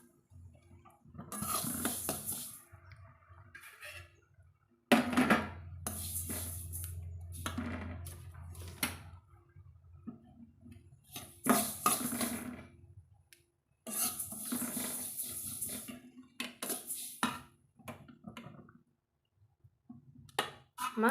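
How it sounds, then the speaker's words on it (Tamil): Roasted sesame seeds for traditional sesame flour are poured onto a plate in a home kitchen. Repeated bursts of dry, hissing rattle come and go in several separate pours, with quieter handling noises in between. "நம்ம தட்டில் எடுத்து இதை கொட்டிக்கலாங்க."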